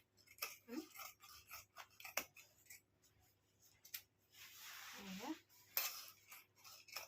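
Scissors cutting thick denim from old jeans, with a series of close snips and crunchy cuts spaced unevenly between quiet moments.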